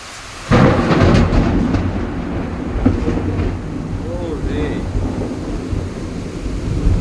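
A loud thunderclap breaks out and rolls on into a long rumble over steady rain during a heavy storm, with faint bird chirps in the background.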